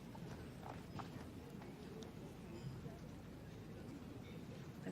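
Horse hooves during a Grade V para dressage test at a European Championships arena, soft steady clip-clop strides under a commentator's continuous talk and low arena ambience.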